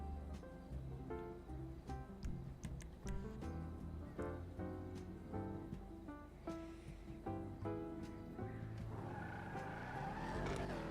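A car in FiveM, the Grand Theft Auto V mod, revving and skidding, with engine tones rising and falling, repeated tire squeals and a few sharp knocks, steady and fairly loud throughout.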